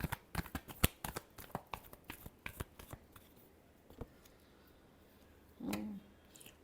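Tarot cards shuffled by hand in a quick run of crisp, papery flicks and taps, close and fairly quiet, pausing briefly before a final fuller riffle burst at the end.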